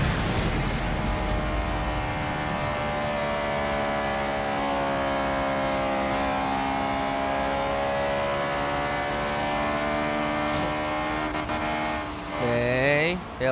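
Car engine in the Forza Horizon 3 Hot Wheels racing game, a loud, sustained drone that holds and swells in pitch, then revs sharply up and down near the end.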